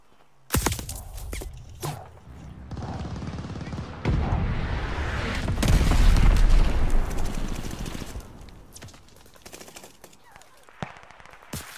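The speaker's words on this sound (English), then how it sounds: "Friendly bombing run on the way." Heavy bombing run in Call of Duty Vanguard multiplayer: rolling booms and rapid gunfire build to a loud, sustained rumble of explosions mid-clip, then fade back to scattered shots and footsteps.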